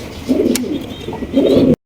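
A pair of large king pigeons coo close by in soft, low, rolling phrases, a pause between them and a brief sharp tap in the middle.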